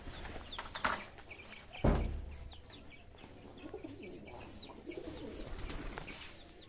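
Soft cooing of racing pigeons in a quiet room, low murmuring calls with a sharp knock partway through and faint rustling.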